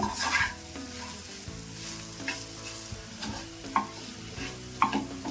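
A spatula stirs a dry okra and potato sabji in a hot pan, making repeated scraping strokes and clinks against the metal over a constant close sizzle. No one talks.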